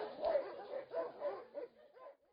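Dogs at a boarding kennel for pets bark and yip in a steady run of overlapping calls, fairly quiet and muffled, with no speech over them.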